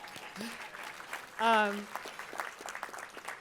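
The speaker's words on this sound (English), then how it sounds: "let's give David a round of applause." Applause from the audience at a dinner for an advocacy day with a Jewish caucus, a steady patter of clapping throughout with a brief whoop or cheer rising over it partway through.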